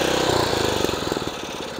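A small lawn mower or trimmer engine runs steadily at close range, a dense mechanical rumble with rapid pulsing firing strokes throughout, no voices over it.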